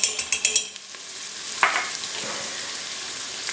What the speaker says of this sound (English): just stir and saute them until they're softened and lightly brown